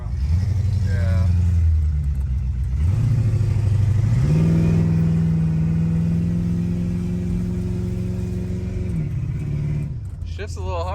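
A cheap Corvette's engine idles while warming up, running rough with a low uneven rumble that rises in pitch partway through and holds steady, loud and close, without talk over it.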